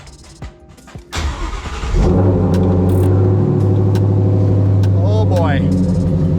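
A Ford F100 truck's engine cold-starts after a few cranking clicks, catches and settles into a loud, rough idle with a brief rev, while someone talks over it.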